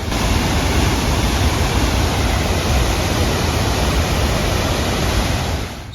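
Waterfall roaring steadily nearby, a dense, unbroken rush of falling water that holds at full loudness throughout and eases slightly only at the very end.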